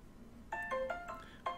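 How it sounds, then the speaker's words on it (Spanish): A mobile phone ringtone plays a series of bright melodic tones in the horror video game Emily Wants to Play, fairly faint over a low background hum. "El móvil, como siempre"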